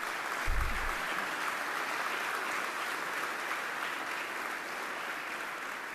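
Steady, full audience applause fills a hall during an Arkansas governor's address, a continuous wash of clapping with no talk over it.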